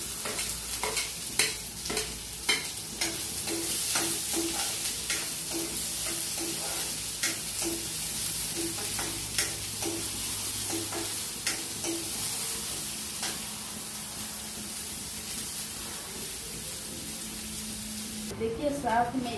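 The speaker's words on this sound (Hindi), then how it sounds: "प्याज, डालेंगे" Onions fry in a pan with a steady, continuous sizzle while a spoon scrapes and stirs them in frequent close, rhythmic strokes, a long stretch of cooking sound with no talking over it.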